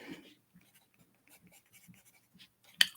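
A pen or pencil writing a cover letter by hand on paper, making faint, intermittent scratchy strokes in short bursts, with a sharper louder scrape near the end; no talking.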